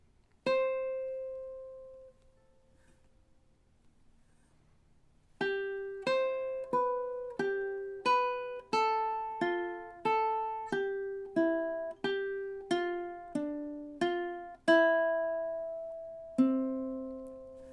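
Ukulele plays measures five to seven of the Jamaican folk song Day-O: one plucked note rings and fades, then after a pause a steady run of about a dozen close, clear plucked notes follows alone, with the last two held longer.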